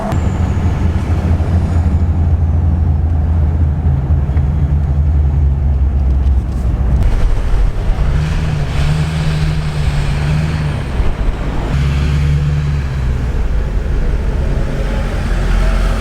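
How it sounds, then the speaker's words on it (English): A loud, heavy diesel truck engine roars steadily with deep low rumble, surging and easing a few times as if revving, with no talking. "I can hear that truck behind me."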